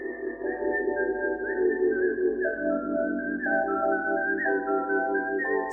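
A lone whistler carries the eerie melody from a film score, a clear, steady tune of sustained and sliding notes, close and fairly loud, with no speech.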